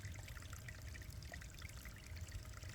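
A stream's water flows steadily in the background, a faint, even trickle and burble with no breaks, soft and distant throughout.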